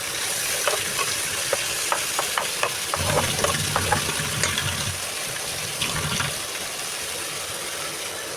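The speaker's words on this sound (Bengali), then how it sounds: "এখন পানি দিয়ে দিই" Water poured into a pan of sizzling hilsa fish and eggplant, a burst of hissing and bubbling after a series of sharp utensil taps, then settling into a steadier simmer.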